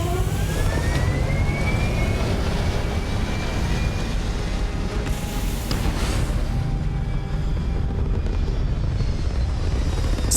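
A Starfield spaceship lifts off with a steady, loud roaring engine rumble that holds throughout, a thin rising whine gliding upward early on and a brief sharp burst midway, with no talking.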